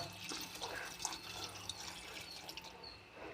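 Water poured onto tamarind in a pan on a stove, a faint trickling and dripping of liquid with soft splashes, heard alone and quietly.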